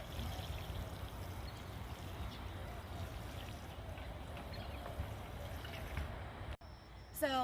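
Water splashing steadily from a watering can onto flower beds outdoors, a continuous broad hiss that runs for several seconds before cutting off, followed by a brief faint sound.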